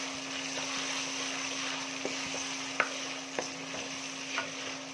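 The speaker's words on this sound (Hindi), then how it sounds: "देखिए इस तरह टमाटर को भी आप भूनेंगे तो ये टमाटर गल जाएंगे अच्छी तरीके से" Tomatoes fry with garlic, ginger and garam masala for dhaba-style chana dal, giving a steady close sizzle with scattered soft stirring clicks and taps, no voices over it.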